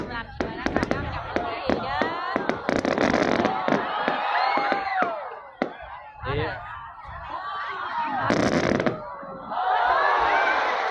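Fireworks at a coconut festival burst overhead in a rapid series of loud cracks and bangs with crackling trails and whistles, while a nearby crowd chuckles, cheers and talks throughout.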